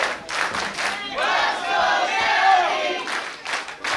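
Crowd at a wrestling match roaring and cheering, a loud sustained wall of voices swelling in the middle, with claps and shouts at either end.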